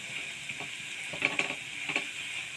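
Biulir dal pakoras fry in hot oil with a soft, steady sizzle, broken by a few light scraping clatters as the fritters are turned over.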